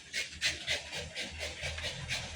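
A dog named Pipa pants heavily and rapidly at close range, with quick, even, breathy bursts running steadily throughout and no voices over them.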